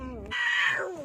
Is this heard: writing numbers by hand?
no